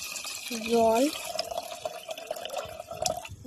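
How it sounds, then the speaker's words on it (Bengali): Water poured into a cooking pot in a home kitchen, a steady trickling stream running for a few seconds with light dripping and splashes, following a brief burst of voice at the start. "জল অনেকটাই দেব।"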